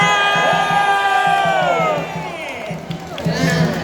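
A large crowd cheers and shouts loudly, with whoops rising over a steady roar that eases slightly partway through.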